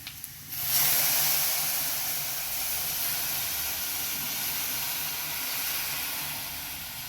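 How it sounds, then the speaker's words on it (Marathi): Milk with carrot kheer comes to a boil in a pan, giving a steady, close hiss of steam and bubbling that rises suddenly and then holds for several seconds. "आपल्या खीरलाही छान उकळी आलेली आहे"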